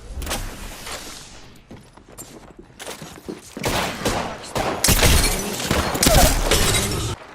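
Apex Legends firefight with a Wraith firing a Peacekeeper shotgun: heavy bursts of gunshots and impacts, close and loud, clustering toward the end over ongoing game noise.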